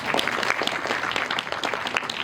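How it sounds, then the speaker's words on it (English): Audience at an interns' meeting gives a round of applause, a busy patter of many hands clapping at an even, moderate loudness that holds steady throughout. "Can we have a round of applause for that?"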